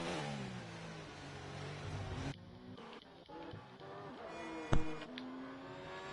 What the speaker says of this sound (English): this Red Bull engine has got a different sound to anything else